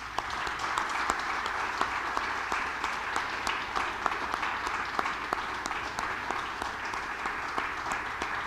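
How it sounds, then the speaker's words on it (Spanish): A church congregation at a Sunday celebration service claps together in sustained, dense applause offered to God, steady and loud throughout with no voices standing out. "dale una ofrenda de palmas a Dios"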